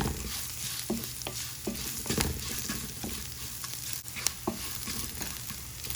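Shallots sautéing in a pan and being stirred, a continuous sizzle with light, evenly spaced scrapes and taps of a spoon, fairly close and without any talk.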